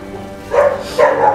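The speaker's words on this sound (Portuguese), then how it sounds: "Os meus cachorros aqui" Dogs bark at the door of a house, with two loud, close barks a short moment apart and no voices over them.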